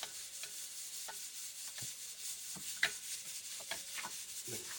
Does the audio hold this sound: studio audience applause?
no